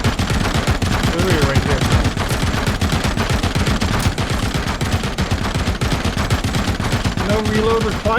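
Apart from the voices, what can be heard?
machine gun fire in video game RoboCop: Rogue City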